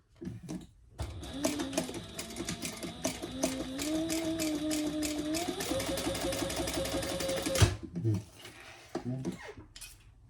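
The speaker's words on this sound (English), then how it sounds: "I'll just chain stitch it a little." A sewing machine chain stitches a composition notebook cover in one sustained run of rapid, even mechanical whirring, with a quiet pause before it starts and softer handling noises after it stops.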